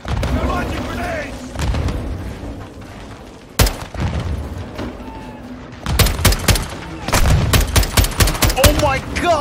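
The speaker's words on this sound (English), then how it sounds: "They're launching grenades!" Modern Warfare II combat with grenades launched into a firefight: loud rifle and machine-gun bursts crack and boom, a sharp blast near the middle, then heavy rapid volleys, with shouting voices mixed in.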